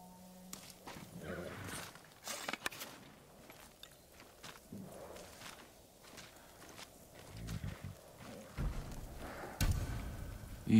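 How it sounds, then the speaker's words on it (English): Scattered hoof clops of samurai horses thud on the ground at an uneven pace in Ghost of Tsushima, close by, with quiet gaps between and a few louder hits toward the end. "Let's get to the horses. They're samurai horses."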